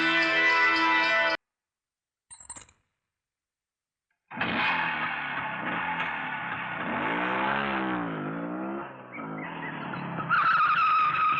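A fast Yamaha motorcycle skids with a loud, screeching whine that cuts off into silence and a short blip, then returns as a sustained wavering squeal with revving.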